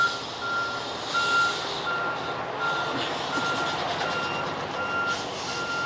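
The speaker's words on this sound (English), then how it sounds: "Gotta let the trash truck go by first." A garbage truck passes close by, its reversing alarm beeping in a steady repeating pattern over the loud rumble of the engine, with no one talking.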